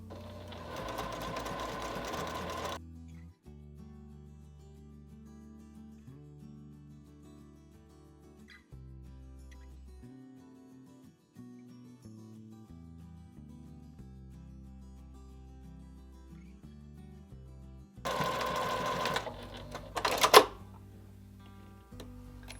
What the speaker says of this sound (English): So now we're ready to sew up this piece of fabric